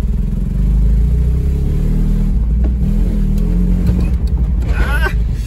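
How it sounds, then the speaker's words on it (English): Loud engine drone from an old, cheap pickup truck, with a rough grinding clutch noise under it and a brief voice near the end. "There's a pretty bad clutch noise."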